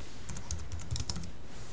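Someone types on a computer keyboard while adding a task in Google Calendar, producing quick, irregular clicking keystrokes close by with no talking.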